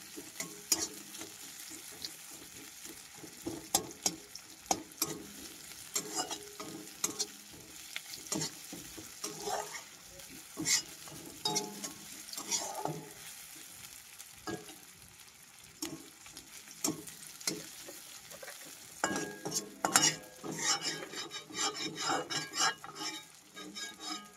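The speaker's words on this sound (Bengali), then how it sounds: "এখানে পেঁয়াজটাকে একটু ভেজে নেব, রসুনটা একটু ভেজে নেব" Steady sizzling of onion and garlic frying in a pan, with frequent scraping and stirring clatter from a utensil throughout; no talking.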